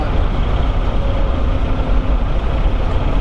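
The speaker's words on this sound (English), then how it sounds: "I'm not used to hearing the rear end of the truck in the box I'm driving." A 1977 Peterbilt 359 truck driving, with a loud, steady low engine and drivetrain rumble and constant road noise inside the cab, where the rear axle is heard.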